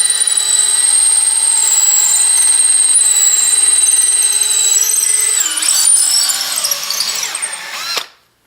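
A power drill with a long bit whines steadily and close, its pitch shifting and straining as it bores all the way through wood, then cutting off abruptly at the end.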